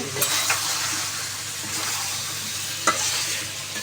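Chicken being sautéed and stirred in a pot, with steady close sizzling and frying broken by a few clinks of a utensil against the metal; no talking.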